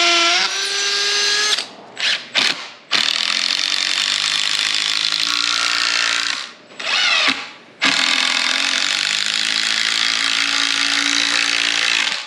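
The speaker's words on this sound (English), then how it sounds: "I will do a pilot hole down here with one screw." Power drill driving a screw through a board into a feed room wall, long whirring bursts broken by short pauses and quick trigger taps, close and loud with no talk.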